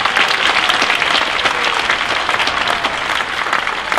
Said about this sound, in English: One more big round of applause for the band.